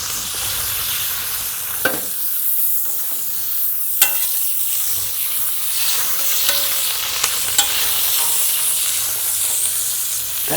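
Burger patty sizzling on a hot griddle, a loud, continuous frying hiss with a few sharp scrapes and taps from a spatula scattered through it and no talk.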